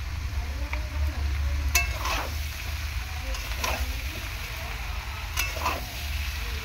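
Young jackfruit and prawns frying with cumin powder in a pan, a steady close sizzle under a low hum, broken by a few sharp spatula scrapes and knocks against the metal.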